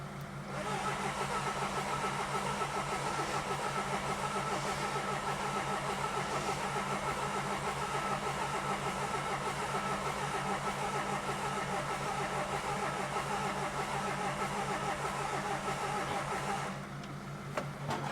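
A Toyota diesel engine cranks steadily without firing, a continuous droning turnover from nearby that runs unbroken for around seventeen seconds before stopping abruptly.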